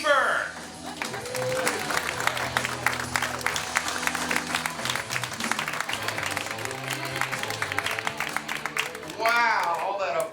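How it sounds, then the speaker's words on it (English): A comedy club audience applauds and cheers as a comedian takes the stage, a loud continuous roar of clapping with crowd voices over music, and someone talking at the start and end. "Wow, all that applause."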